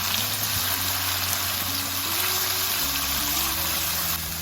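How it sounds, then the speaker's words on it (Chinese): Pieces of egg tofu fry in hot oil in a pan, giving a loud, continuous hissing sizzle with a faint low hum beneath. "油热之后，把我们的鸡蛋豆腐放进来给它炒一下。"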